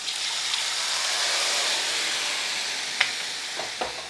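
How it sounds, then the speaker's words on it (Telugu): Rasam poured into a sizzling tempering with chili powder for Telugu kattu charu, giving a steady, close frying hiss throughout, with a few brief crackles and spits near the end. "కారం వేయగానే ఇదిగోండి ముందు ఈ రసం కలిపేస్తున్నాను"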